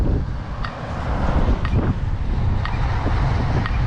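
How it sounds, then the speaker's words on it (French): Strong wind blasts into the microphone outdoors in Amsterdam, a loud, constant rumbling buffet that swells and dips and carries faint clicks, with no speech. "C'est quoi ce vent de merde là?"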